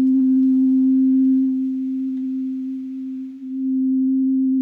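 A loud, steady synthesized oscillator tone from Pure Data holds at one pitch, bright with overtones at first, then purer, dipping briefly near the end.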